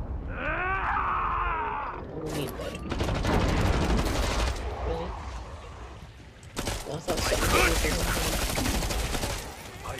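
Rapid bursts of gunfire in the shooter game Killing Floor 2, loud sharp volleys mixed with monster groans and game noise, with a short voice at the start.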